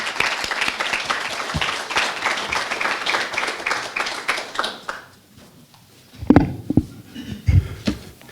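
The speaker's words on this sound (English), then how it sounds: "A big round of applause for our ecosystem partners." Audience applause at a social entrepreneurship lunch event at Keiser University, a dense burst of clapping for about five seconds that fades out, followed by a few louder isolated knocks or handling sounds.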